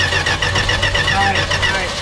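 Engine of a 1977 Dodge Power Wagon W150, parked for 20 years, cranking over and over without firing. The starter chugs in a loud, steady rhythm close by, and a voice talks over it.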